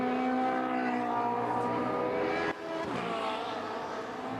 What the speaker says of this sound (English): There is the number 55 car of Babylos.